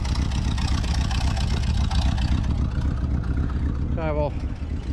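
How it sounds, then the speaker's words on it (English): Engine of a 1978 GMC crew cab squarebody truck idling with a large exhaust leak, a steady rough low rumble throughout, with a brief rising whine near the end. "I also just discovered there is a humongous exhaust leak"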